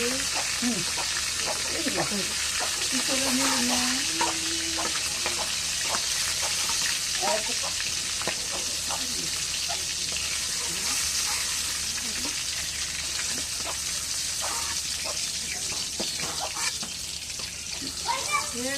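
Fish frying in oil gives a steady, dense sizzle that runs the whole way through, with crackles and pops over the top. Faint voices and other small noises sit underneath.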